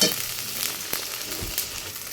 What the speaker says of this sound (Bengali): দিয়ে সুন্দর করে লাড়া দিতেছি। আদা রসুনটা একটু ভাজা ভাজা হোক।